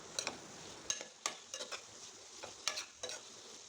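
A spoon stirs hotel-style sambar rice in a pot after coriander leaves go in, making quick, close metallic scrapes and taps in uneven clusters over a soft, faint sizzle.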